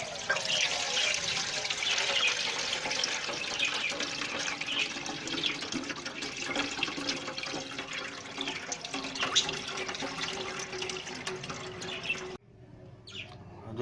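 Liquid pours and trickles steadily through a cloth into a bucket, with wringing splashes continuing for about twelve seconds before the flow stops abruptly; no one speaks.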